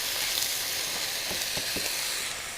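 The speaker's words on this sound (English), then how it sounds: "now we're going to add the onion and garlic" Onion and garlic sizzle loudly in a pot over browned beef for a beef stew, a steady dense frying hiss with a few soft stirring knocks, close up and without speech.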